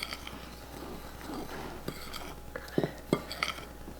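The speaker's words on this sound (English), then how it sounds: "So let's mix up the dry ingredients first." Dry ingredients being stirred in a bowl: soft scraping and swishing with a few sharp clinks of a utensil against the bowl, close by, over a low background hum with faint murmuring.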